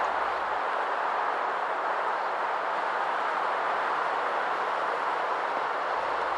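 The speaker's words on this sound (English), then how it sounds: "we catch another BNSF train reverse running south on Main 2" A BNSF freight train reverse running south on Main 2 of Colorado's Joint Line at Larkspur, led by C44 locomotives, gives off a steady, broad rumbling roar that holds evenly throughout without a break.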